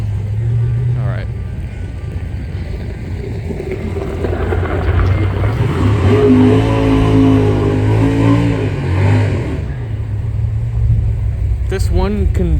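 Engine revving drifts over from a drag racing strip near South Mountain Raceway as a car repeatedly tries wheelies. The loud rumble rises and falls over about twelve seconds, with a voice talking nearby.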